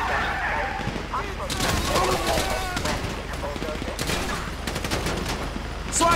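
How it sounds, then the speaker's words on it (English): Gunfire in Grand Theft Auto 5, rapid bursts and volleys of shots cracking in clusters, loud and close, mixed with shouting game character voices. "So I guess we shooting our way out of here!"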